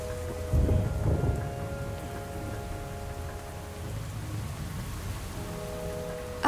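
Thunderstorm in the Dungeon Defenders video game, with a loud rumble of thunder near the start over steady rain hiss, then continuous rain with a low rumble returning later.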